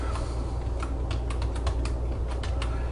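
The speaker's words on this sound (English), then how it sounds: "If I just type light bulbs in here" Keystrokes on a computer keyboard tap out a short burst of typing, a series of quick, light, irregular clicks close to the microphone over a low steady hum.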